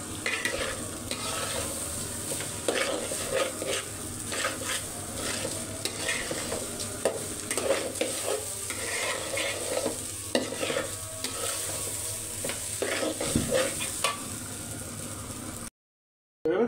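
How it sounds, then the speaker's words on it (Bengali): Biryani cooking in mustard oil is stirred vigorously in the pot, with repeated scraping and clattering strokes over a constant frying hiss, close and busy, before a sudden drop to silence near the end. "ভালো করে নেড়ে চেড়ে নিতে হবে।"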